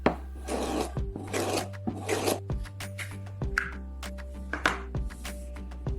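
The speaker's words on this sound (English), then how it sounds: "Now the tube will maintain the correct sharpening angle." A kitchen knife drawn repeatedly through a plastic tube angle guide, giving a series of close, dry rasping strokes at a steady pace, roughly one pass every second, with faint clicks between them and no talking.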